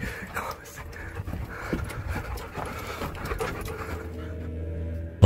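A dog pants heavily while fleeing with a man through a tunnel, fast rhythmic breaths with footfalls and scuffling, close and loud, alongside a man's speech.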